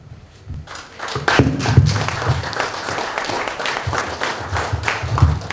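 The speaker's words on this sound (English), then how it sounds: "Round of applause for Dr. Alton." Applause from a seminar audience after a speech on religious freedom and peace in Nigeria, starting after a quiet moment and swelling into steady mixed clapping with some thumps, then holding at a moderate level.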